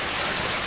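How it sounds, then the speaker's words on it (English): Heavy winter rain falls in a steady, dense hiss with no breaks and no voices. "We weren't prepared for this much rain."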